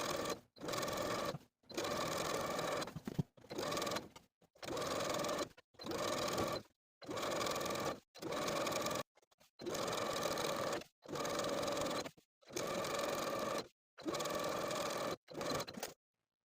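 A home sewing machine stitches elastic casings on a holiday dress in about a dozen short runs of rapid whirring, each lasting a second or so and separated by brief pauses, close and alone.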